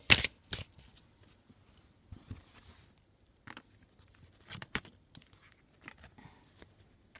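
A deck of oracle cards being shuffled by hand: quiet, scattered riffles and soft flicks come in short, irregular bursts, separated by near silence.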